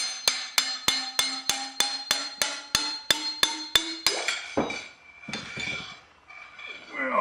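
A dent raising tool strikes a metal barrel on a Remington Whitmore lifter, about a dozen sharp, evenly spaced ringing taps, close and bright, followed by scraping and handling noises.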